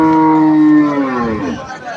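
A bull at a crowded cattle market before Eid al-Adha gives one loud, close, drawn-out moo that fades away, with a faint crowd murmur behind it.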